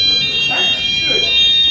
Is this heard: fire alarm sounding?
yes